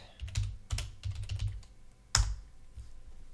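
Fingers typing search text on a computer keyboard, a few quick bursts of key clicks followed by a single firm keystroke, close and clear with no talk.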